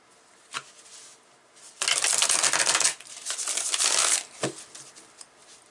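Tarot cards riffle in several quick bursts of crisp, papery flutter, with softer taps and shuffles between them, close by.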